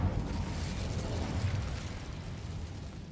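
An Incendio fire spell erupts in the Hogwarts Legacy video game as a loud, roaring whoosh of flame with a deep rumble, sustained for a few seconds before easing slightly.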